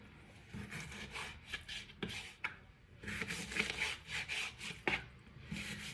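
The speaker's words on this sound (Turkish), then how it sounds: "Küp küp tavuk göğsümü doğruyorum." A knife dices raw chicken breast into cubes on a board, giving quiet, close, irregular scraping and chopping strokes in an uneven rhythm with no voices.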